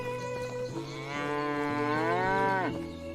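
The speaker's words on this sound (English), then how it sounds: "Wow, cows already?" Cows moo in a medieval life simulator game, a loud, drawn-out low bellow of about two seconds that rises and falls over quieter ambient background sound, with no talking.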